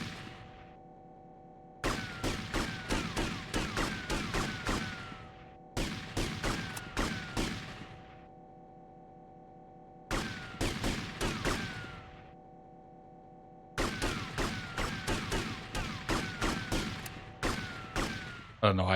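Gunfire from the video game GTA Vice City plays in loud rapid bursts, several volleys of several seconds each split by short silences, close and dominant.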